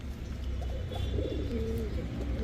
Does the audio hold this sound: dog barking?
no